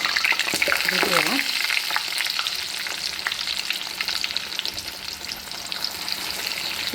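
Flour-coated chicken pieces deep fry in hot oil for broasted chicken, a steady dense sizzle and crackle that runs close and loud throughout with no voices.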